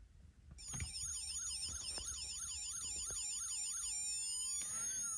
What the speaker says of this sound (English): The siren is very, very faint.